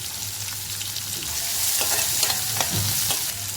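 Finely chopped onion sautés in hot oil, a steady close sizzle with occasional stirring scrapes and clicks over a faint low hum.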